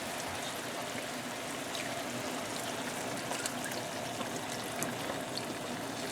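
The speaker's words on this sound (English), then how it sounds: "Then add us a carton of beef stock." A carton of beef stock pours steadily into a pan, a continuous soft splashing trickle that runs the whole time without a break.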